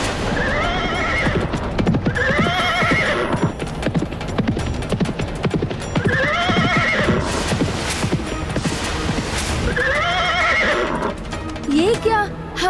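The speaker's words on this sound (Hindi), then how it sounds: "ये क्या, हमारे अश्व की भांति दिखाई देने वाले सैकड़ों अश्व?" Hundreds of horses gallop in a dense, continuous clatter of hooves with repeated loud neighs and whinnies rising over it, under a voice speaking.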